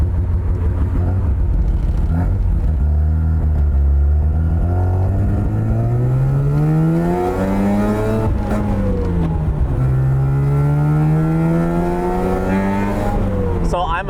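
A 10,000 rpm Mazda R100 with an old-school rotary engine revs hard and close. Its buzzy tone climbs, drops and climbs again in long sweeps, and the sound stays loud and continuous throughout.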